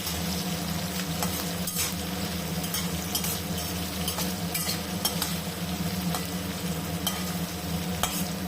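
Thinly sliced onions and dried red chillies frying in hot oil, a dense steady sizzle broken by frequent light clinks and scrapes of a spoon against the pan, close up and alone.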